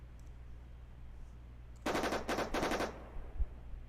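Coaxial machine gun on a tank in the video game Armoured Commander II fires three quick bursts of rapid shots, fairly close and loud against a quiet low engine hum.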